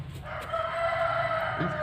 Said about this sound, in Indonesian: Teman-teman, ada suara ayam jago